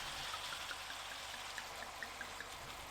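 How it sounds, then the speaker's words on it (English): A quarter cup of white wine is poured into a hot pan to deglaze it for a tater tot casserole. The pour is a faint, soft trickle with a few light drips, heard alone. "it's time to deglaze the pan with 1/4 cup or 63 milliliters of white wine"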